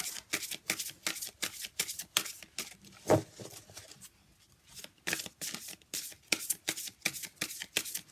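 Guidance cards are shuffled by hand in a steady run of close, crisp riffling bursts, pausing briefly midway before the rhythmic shuffling resumes, with no talking.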